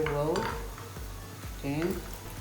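A spoon stirs okpa mixture in a pot, giving soft scraping and clinking knocks amid kitchen background noise and a brief voice-like tone.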